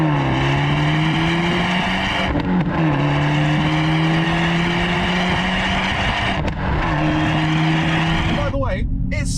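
The 1.4-litre turbocharged four-cylinder engine of an Abarth 124 sports car revs and pulls hard with a raspy, buzzy note, rising through gears with brief lifts between, loud and close.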